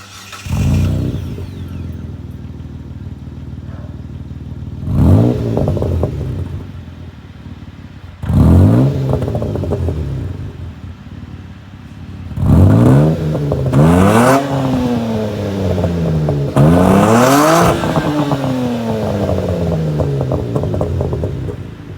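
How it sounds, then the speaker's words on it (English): A straight-piped Hyundai Genesis Coupe 3.8 V6 revs repeatedly through its exhaust, several rising bursts with idling between them, loud and close with no talking. "I can put some exhaust clips of my old one"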